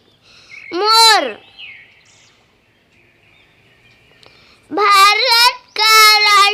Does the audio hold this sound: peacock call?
yes